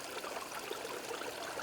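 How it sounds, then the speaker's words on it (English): A small, shallow stream with little water trickles steadily, a soft even wash of running water that stays faint and unbroken throughout. "So this one is a little stream"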